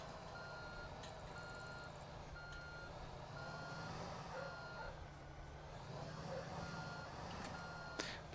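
Truck reversing beeps from Construction Simulator 2 repeat in a steady, evenly spaced pattern of short tones over a continuous low engine rumble, moderately loud and steady, with no talk.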